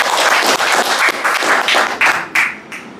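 An audience at a World Health Day event in Naidupeta claps loudly for doctors and health workers, with dense, close hand-clapping that holds steady for a few seconds, then thins out and stops.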